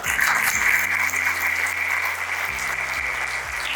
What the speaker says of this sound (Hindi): हम चाहेंगे सभी के लिए जोरदार तालियां हो जाए।